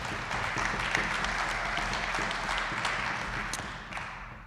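An enthusiastic audience applauds after a tune at a live jazz concert in a Lutheran church, steady clapping that gradually fades out toward the end.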